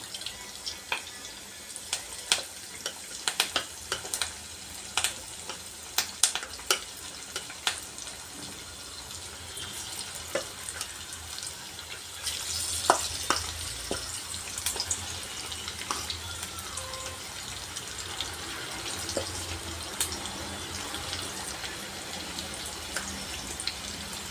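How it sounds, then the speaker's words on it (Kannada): Chicken kebabs deep-frying one at a time in hot oil over a low flame make a quiet, continuous hiss dotted with sharp crackles and pops throughout. "ಒಂದೊಂದಂಗೆ ಹಾಕ್ಕೊಂಡು ಲೋ ಫ್ಲೇಮಲ್ಲಿ ಚೆನ್ನಾಗಿ ಫ್ರೈ ಮಾಡ್ಕೊಬೇಕು"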